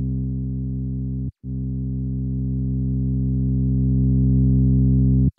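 Kee Bass sub-bass plugin with its bass booster turned down gives a pure sine tone, two held notes split by a brief gap, steady and slightly swelling, with no voices.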